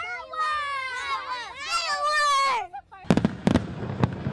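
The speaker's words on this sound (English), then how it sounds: "thousands of fireworks illuminating the Detroit skyline" Whistling fireworks scream with wavering, overlapping tones over the Detroit skyline, then give way to a quick string of sharp crackling pops and bangs.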